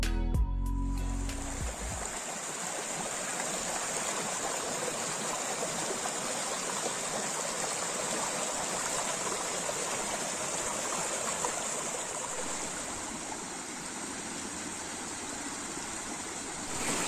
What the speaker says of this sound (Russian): Скалой протекает ручей Амуд, омывающий какие-то развалины